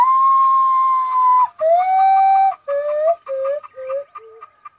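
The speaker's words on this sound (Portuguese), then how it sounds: "O mãe da lua bem alto cantando." A common potoo (urutau) calls loudly and close in a forest, a series of long, clear whistled notes that step down in pitch, each shorter than the last, with brief pauses between.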